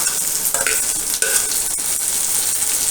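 Onions and tomatoes sauté in a pan for white peas kurma, with a steady close hiss of frying and a few scraping stirs of the spatula, no voices.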